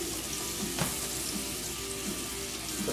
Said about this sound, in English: I get the pan kind of hot because we want to sear the salmon